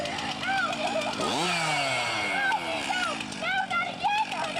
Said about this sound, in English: He has a chainsaw